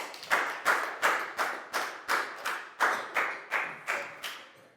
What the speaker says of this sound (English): High five and a big round of applause for Chew